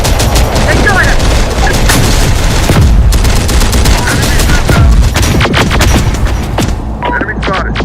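Dense, continuous gunfire and explosions fill a Terminator Dark Fate Defiance battle, with bursts of automatic weapons and booming impacts layered loudly over a busy combat soundscape, along with occasional radio-style voice chatter.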